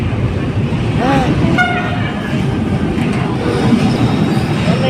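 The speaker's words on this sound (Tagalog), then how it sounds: "May train na po." A train pulls in with a few horn toots, ringing out over a busy, rumbling platform where people talk in the background.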